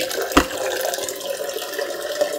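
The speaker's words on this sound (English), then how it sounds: "So I'm going to switch off the water purifier and empty the tank." Water flowing out of the emptied tank of an Atomberg Intellon smart water purifier: a steady rushing splash, close and fairly loud, opened by a brief sharp knock, with no talk.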